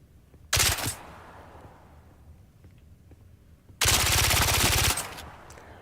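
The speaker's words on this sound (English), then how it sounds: "So this is an SMG." An SMG in the video game Dune fires two full-auto bursts: a short rattling one, then after a pause a longer burst of about a second, loud and close.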